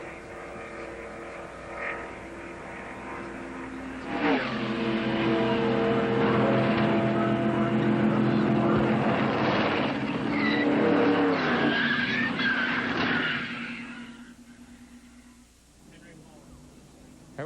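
Stock cars crash during the 1995 ARCA 500K race at Talladega, with roaring engines, screeching tires and crunching impacts swelling into a loud, sustained racket before fading to a quieter trackside rumble.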